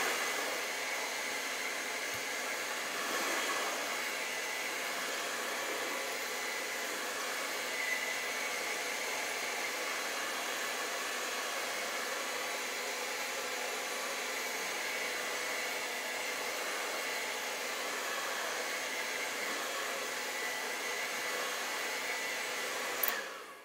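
A hair dryer blows steadily on a freshly painted acrylic canvas copy of Van Gogh's vase with red poppies, a loud, even rushing whir held for over twenty seconds before it cuts off at the end.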